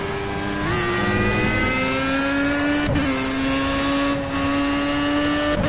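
Race car engine in the video game Project Cars during a time trial: a loud, close, continuous engine roar with pitch climbing through the revs, dropping at gear shifts and rising again.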